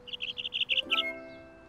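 A cartoon bird chirps in a quick run of about eight bright, evenly spaced tweets, close and clear, ending in a short warbled note and a soft fading tone.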